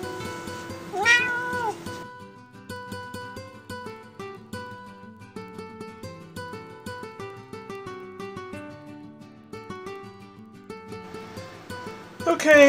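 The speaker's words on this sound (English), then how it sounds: "Cat wants to play." A house cat meows repeatedly in a workshop where polymer clay is being shaped, its cries rising and falling close by across the span, with louder calls near the start and end.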